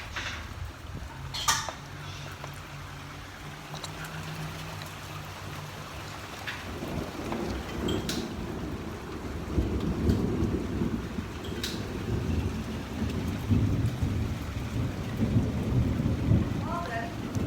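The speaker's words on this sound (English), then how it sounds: "That was a big thunder boom. It's still going." A big thunder boom rolls through a rainstorm, a long, deep rumble that builds and keeps going over steady rain on surfaces, with a few sharp drips and clicks nearby.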